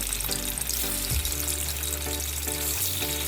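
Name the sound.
chicken pieces frying in hot oil in a karahi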